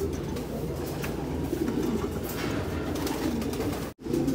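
A breeding-loft pigeon hen coos in low, repeated throaty phrases against a constant room hum, the sound close and steady for a few seconds before a brief dropout.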